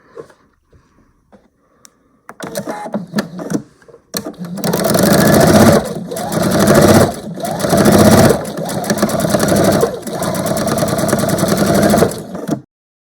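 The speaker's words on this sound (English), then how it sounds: "we're going to sew from point to point" A sewing machine stitches quilt block pieces for a large star quilt block, running loud and fast in long bursts with brief pauses. A few quiet handling sounds come before it starts.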